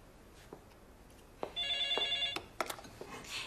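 Telephone ringing in a quiet room, one electronic ring burst in the middle followed by clicks and handling noises as the handset is picked up, with faint background sounds.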